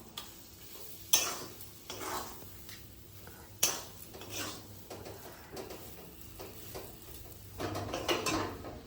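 Chicken egg roll filling stirred in a pan over a low flame: repeated scraping, clattering spatula strokes in irregular bursts over a faint sizzle, close and fairly quiet, no voices.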